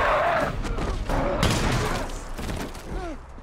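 Several sharp gunshot bursts crack and thud in quick succession in the zombie film Army of the Dead, layered with shouting voices and chaotic action noise.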